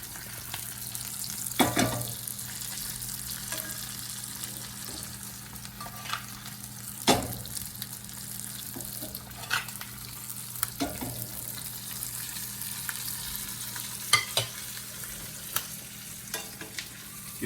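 A steak seasoned with garlic, salt and pepper sizzles steadily in a frying pan, with several louder clanks and bursts as it is flipped and moved at close range; no one speaks.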